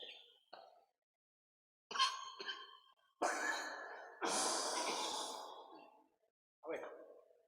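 A man coughs in a few short bursts and then in a longer, harsher fit, with breathy gaps between them, close and fairly loud, and no talk over it.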